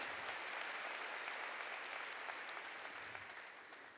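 Church congregation applauding together during a sermon, a steady, dense wash of clapping that holds for the whole stretch and fades slightly toward the end, with no voice over it.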